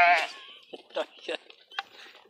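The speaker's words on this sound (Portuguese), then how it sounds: "Ovelha, cabra." A sheep gives one loud, close bleat on a farm, followed by someone speaking in short bursts while the animals stay in the background.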